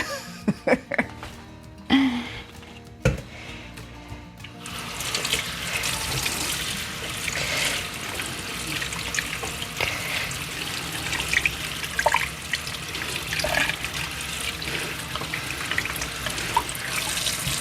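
Tap water runs steadily into a kitchen sink while beets are rinsed and trimmed for pickling, a continuous hiss with a few clunks and handling knocks early on, close by.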